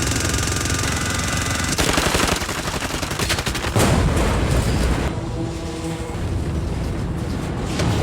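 Gunfire in a Korean drama action scene as a man runs toward a rescue helicopter, sounding as dense, sustained bursts of shots layered with booming blasts and loud score, with no talk.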